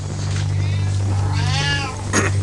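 Indoor cat in a cluttered home with many cats, meowing in drawn-out rising and falling calls over a steady low mains hum, fairly close and alone with no talk.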